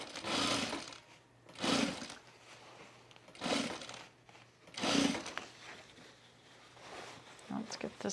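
A home sewing machine stitches a waistband onto jean shorts in four short, loud whirring bursts separated by pauses, with quieter fainter runs near the end.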